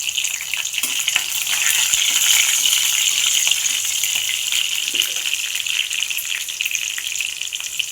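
Crushed garlic, curry leaves and green chilies fry in hot oil for a pomfret fish curry, making a loud, dense, steady crackling sizzle close up with no talk.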